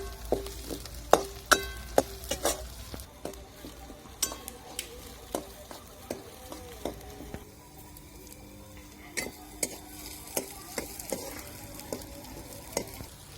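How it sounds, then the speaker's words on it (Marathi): Garlic and green chilies sautéing with onion in a pan for a bitter gourd dish, a soft steady sizzle broken by frequent sharp clicks and scrapes of a spoon stirring against the pan, fairly close and moderately quiet. "लसूण मिरची आपल्याला कांद्यामध्येच परतून घ्यायचा"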